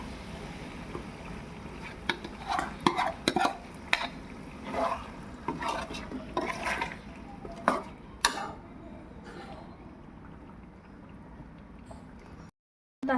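Masala paste for Andhra-style chilli chicken gravy is stirred and fried in a pan, with irregular scraping and clinking strokes of a spoon against metal over a low sizzle, close by, before the sound cuts out near the end.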